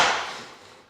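A plank hammer taps vinyl plank flooring in a single sharp knock up close that quickly fades.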